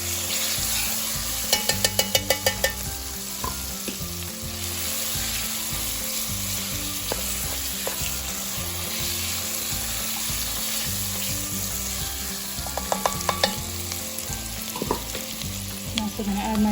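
Tomato paste sizzles and caramelizes in hot oil for a lentil soup, a steady loud frying crackle throughout with brief scraping stirs near the start and again toward the end, no voices.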